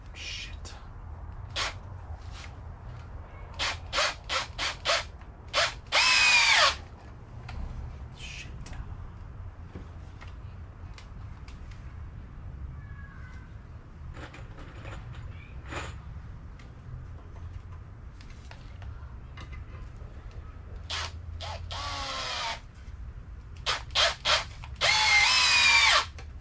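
Screws driven in with a power drill while building an outboard lower-unit stand: several short whirring bursts separated by pauses, with longer high-pitched runs. Quiet outdoor background with crows cawing, and a little talk.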